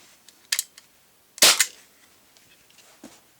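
A 40-year-old Crosman air gun fires with a sharp, loud crack, preceded by a smaller click and followed by quiet with a faint tick near the end.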